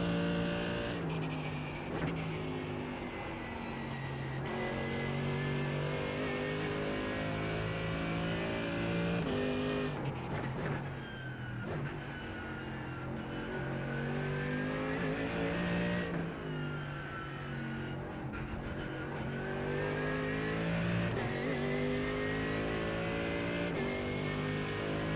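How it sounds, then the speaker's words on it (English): A GTE race car at Sebring in iRacing roars continuously at high revs, the engine note climbing and dropping through gear changes over the whole lap segment, with the sound close and loud. "Faster car coming up quick."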